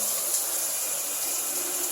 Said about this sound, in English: That water's working.